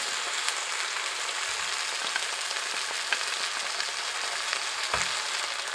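Ingredients for Malaysian prawn noodles sautéing in a pan, a steady close sizzle with occasional light stirring clicks.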